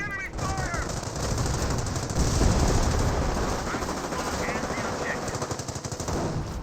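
Sustained machine gun fire in the Company of Heroes 1 battle game, a loud continuous rattle of rapid bursts with other battle noise and brief radio-style voice chirps in the mix.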